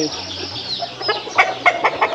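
Chickens cluck close by in a quick series of short, bright calls that grow busier toward the end, with no talk over them.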